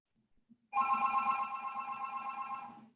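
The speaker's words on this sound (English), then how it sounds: "Phone ring." A telephone bell rings in one sustained bright trill lasting over two seconds, loud and close after a few faint soft taps.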